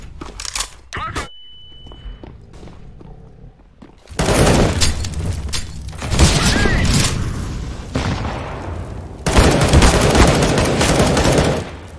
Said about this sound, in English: Throwing fire. Throwing a flashbang. Grenade out.